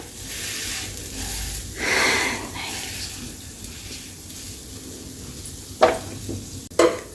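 A besan chilla frying in a pan as it is flipped, a soft sizzle that swells briefly, then two sharp clinks of the utensil against the pan near the end.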